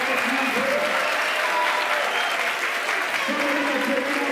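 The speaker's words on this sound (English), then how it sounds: "I need all the Pelham Garden Middle School students to give a round of applause for all of these parents" Middle school students applaud parents at an induction ceremony in a school hall, a sustained round of clapping from a large group, with a voice speaking faintly over it.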